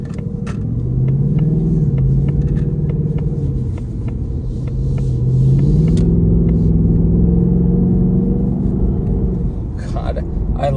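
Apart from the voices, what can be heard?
car engine and exhaust rumbling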